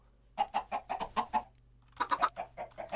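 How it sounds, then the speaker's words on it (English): Minecraft chickens cluck in quick, close bursts, a short run of clucks, a brief pause, then another cluster, with no talking over them. "Chickens! Come on, out you get."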